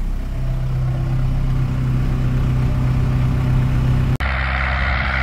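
A farm vehicle engine runs loud and close with a steady mid-pitched drone during soybean planting, and the tone shifts abruptly near the end as the engine note changes.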